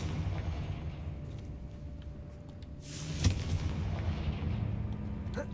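A Confringo fire spell is cast in the Hogwarts Legacy video game, producing a sudden booming blast with a sharp crack partway through, over a constant low rumble of game ambience.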